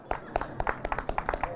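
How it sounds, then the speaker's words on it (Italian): An audience claps for a boxer after an amateur bout in a Sardinia versus Sicily and Emilia-Romagna match, with sparse, uneven hand claps rising and falling close by while a commentator's voice runs underneath. "Ora si gode anche l'applauso del pubblico"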